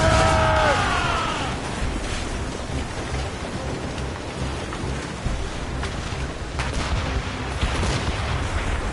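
Ship cannons fire during a naval battle in Assassin's Creed Rogue, heavy booming blasts rolling over continuous roaring noise like rain and wind, with a few sharper bangs toward the end.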